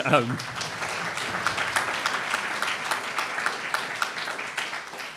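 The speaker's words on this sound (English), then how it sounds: "Let's give her a round of applause." An audience gives steady, continuous applause at a talk event on austerity, a dense even patter of many hands with a brief voice at the very start.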